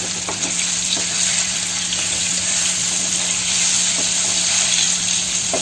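Taro (arbi) fries in oil with turmeric in a pan, a loud, steady sizzle running throughout, broken by faint scraping as the pieces are stirred.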